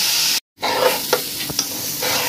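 Washed rice frying over medium heat in a pan for chicken tehari, a bright, close sizzle with a brief silent gap near the start, then a few scraping knocks as the grains are stirred.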